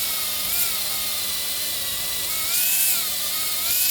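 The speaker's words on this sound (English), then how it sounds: "I'm going to continue with the air hammer" A pneumatic air hammer rattles continuously up close on wood, its rapid mechanical chatter steady with slight shifts in pitch.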